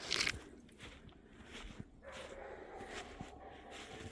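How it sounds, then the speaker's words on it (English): A spaniel gives one sharp bark at the start outdoors in snow, then quiet outdoor ambience with faint snuffling noises follows. "Not too sure what Adelaide thinks she's barking at"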